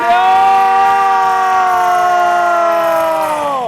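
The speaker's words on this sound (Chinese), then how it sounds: "也个是空袭警报器，就是民国74年推大沙个派出所都有的空袭警报器" A civil-defense air raid siren of the kind installed at local police stations around 1985 wails loud and close, a steady harmonic tone holding throughout and sliding downward as it winds down at the end.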